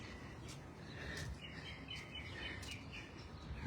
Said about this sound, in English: You hear them birds?